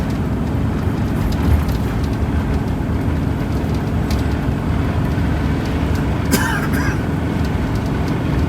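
Trucks and other traffic passing on a highway produce a loud, continuous roar of road and engine noise up close, with no break and no talking.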